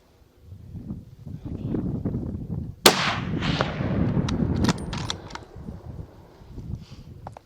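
A rifle fires at a bull elk during Colorado's second rifle season, producing one loud, sharp shot that cracks and echoes across open ground amid wind rumble, with voices talking quietly before and after.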